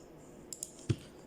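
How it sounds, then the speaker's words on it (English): A few sharp clicks come from a computer keyboard while a 3D model is built in Blender, ending in one firmer key press; the clicks are isolated and fairly quiet against a low background. "press 1 on the keyboard"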